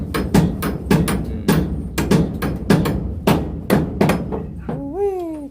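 A hammer pounds nails into wall sheeting in a quick, steady series of about a dozen loud, close strikes, followed by a brief high, voice-like sound at the end.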